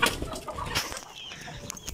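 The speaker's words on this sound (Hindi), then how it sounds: "ऑस्ट्रेलिया का मुर्गा ना बार बार इधर आ जाते हैं" An Australian rooster clucks close by, with a burst of loud clucks at the start and softer ones trailing off after, and no talk.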